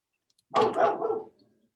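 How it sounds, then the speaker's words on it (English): A single short burst of dog barking, two or three quick overlapping barks from one dog at middling distance, breaking an otherwise silent background during an online community meeting. "Oh, it's dogs."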